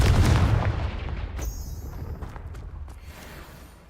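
A Confringo blast spell explodes in Hogwarts Legacy, a loud booming burst at the start that decays into a rumbling tail with a whooshing crackle midway, no talk.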